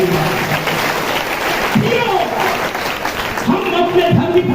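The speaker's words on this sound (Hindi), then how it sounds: "ताली बजा के प्रभु का धन्यवाद।" A church congregation claps together in thanks to the Lord, sustained applause filling the room steadily throughout, loud and close, with a voice speaking over it.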